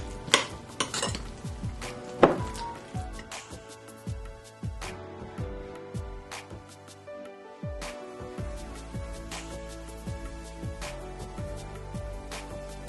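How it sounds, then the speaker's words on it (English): A utensil clinks and scrapes against a bowl in repeated, uneven knocks while potato salad filling with mayo is mixed. It is close and fairly quiet, with no talk. "So now I'm just mixing everything together."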